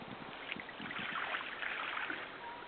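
Water rinses a dog during a bath, a steady, continuous splashing and hiss of running water that holds close and fairly loud throughout.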